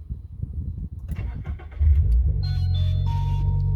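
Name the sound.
Subaru BRZ / Toyota GR86 engine starting and running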